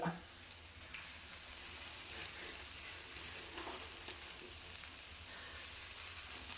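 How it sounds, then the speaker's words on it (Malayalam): Chopped thazhuthama leaves stir-fry in a pan for a Kerala thoran, making a steady close sizzle with soft scraping stirs and no talking over it. "ഇനി അരിഞ്ഞു വെച്ച ഇല അങ്ങോട്ടിടുക"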